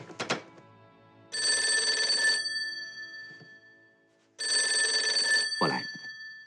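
A telephone rings with a bright electric bell in two long bursts separated by a pause, loud and close, with short knocks at the start and a brief thump as the second ring ends.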